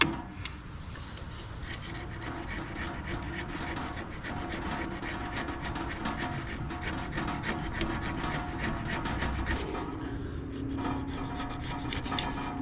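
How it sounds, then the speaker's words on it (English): A knife blade scrapes gently along a piece of wood to raise fine shavings for fire tinder, a close, continuous dry rasping that runs steadily throughout, with no talking. "what I need to do is just scrape this very gently, so it makes like a slight sawdust maybe"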